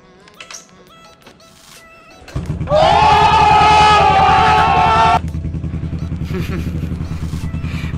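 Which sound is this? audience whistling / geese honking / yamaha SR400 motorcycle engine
yamaha SR400 motorcycle engine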